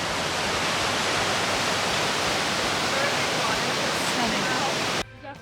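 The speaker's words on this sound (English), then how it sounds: "We thought we heard running water" Steady broadband rush of running water in the backcountry of the Tetons, loud and constant like a nearby stream or falls, cutting off abruptly near the end.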